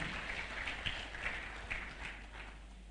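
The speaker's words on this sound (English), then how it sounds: "A round of applause for Dr. Samuel Muhinzi." A conference audience at an annual assembly applauds at a distance. The clapping is a faint, even patter, like rain, that stays steady for a few seconds.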